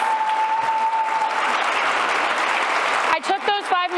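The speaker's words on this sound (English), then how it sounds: "can I have a huge round of applause for our panelists?" An audience at an Indigenous-led clean energy gathering breaks into loud, sustained applause for the panelists, a dense roar of clapping that carries on until a voice starts speaking over its fading tail near the end.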